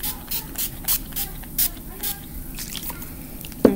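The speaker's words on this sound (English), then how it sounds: "I'm just going to spritz that on my face" Mix Matte Finish setting spray spritzed onto a face in a run of short, sharp misting hisses, about eight quick pumps fairly close, followed by a brief louder rustle at the end.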